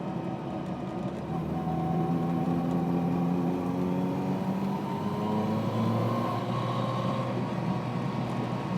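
Small-displacement 1960s Honda S600 coupe engine with four carburettors, one per cylinder, pulling on the road at moderate speed: a steady buzzing drone with rising and falling pitch as the revs shift, heard from inside the car.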